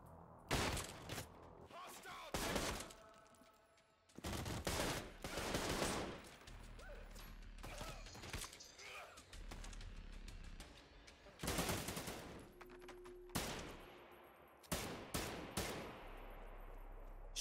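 Rapid gunfire bursts from weapons in the video game Trepang2, loud clustered volleys with short pauses between them and a few brief quieter gaps.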